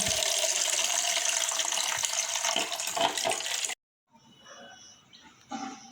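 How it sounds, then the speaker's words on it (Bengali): Tap water gushes steadily from a kitchen faucet into a mug as turmeric water is prepared for a Tulsi plant puja, a loud continuous broadband rush for several seconds, then a sudden stop followed by quieter trickling and clinks. "এবার এই মগটাতে একটু কল থেকে জল মিশিয়ে নেবো"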